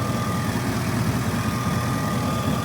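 A truck engine idles with its cooling fan running, a steady low rumble and whir that holds constant and close throughout, no speech.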